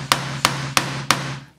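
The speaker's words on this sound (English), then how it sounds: "you get the bit to make the holes, the hole forming tool. Get a hammer," A hammer strikes a hole-forming punch four times through leather, sharp evenly spaced blows with a steady low hum running underneath, no voices.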